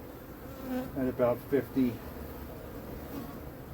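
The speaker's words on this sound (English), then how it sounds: "the bees are flying" Honeybees fly around a swarm trap on a cool, damp day in Philadelphia, a steady low buzzing drone under a few brief words of nearby speech.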